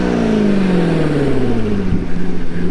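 A C7 Corvette with a Corsa Extreme exhaust is revved loudly nearby, its note sliding down from a high rev and then settling into a rumbling, pulsing idle.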